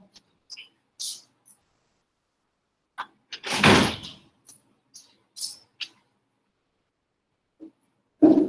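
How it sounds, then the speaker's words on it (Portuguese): A door is pushed shut with one firm, close thud in the middle, among a few faint scattered clicks and knocks in an otherwise quiet room. "Eu vou fechar o porta."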